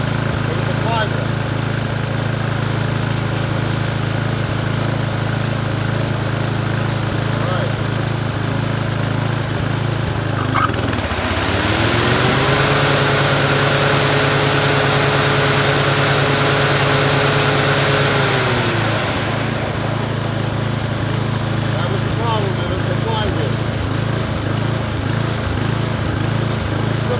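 A Toro TimeMaster self-propelled lawn mower engine runs steadily up close after a flywheel repair, with a brief rise in revs midway before settling back to a steady hum.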